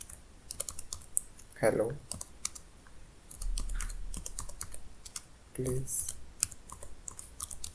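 Keystrokes on a computer keyboard, a steady patter of light clicks entering text, close by, with a person speaking briefly over the typing.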